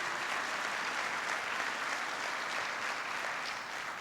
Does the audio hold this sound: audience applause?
yes